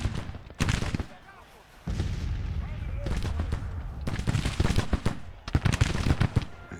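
Cannon blasts and gunfire crackle in Grand Tactician: The Civil War, a Federal Summer 1861 campaign, with sharp bursts and rolling volleys repeating through the clip over a steady battlefield rumble.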